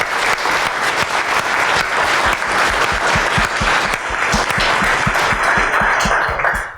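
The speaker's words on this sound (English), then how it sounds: "a big hand, a round of applause" Loud, sustained audience applause at an IT career event, thick clapping from a full room with some sharper individual claps standing out near the end.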